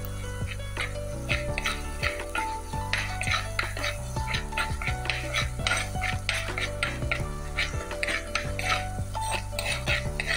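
A spatula stirs and scrapes crushed garlic paste being sautéed in a pan for a Kerala fish head curry, making steady, close metallic clatter and scraping that runs continuously with no talk.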